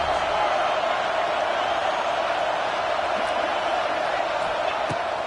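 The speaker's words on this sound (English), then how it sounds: "Listen to this crowd just shaking the girders of this place," A packed UNR football stadium crowd roars in a dense, sustained wall of noise, with an announcer's voice faintly over it.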